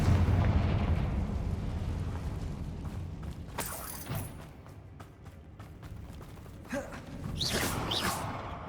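Confringo spell explosions go off in the video game Hogwarts Legacy, a deep rumbling blast that fades, followed by a few sharp bursts and crackles, with no talk.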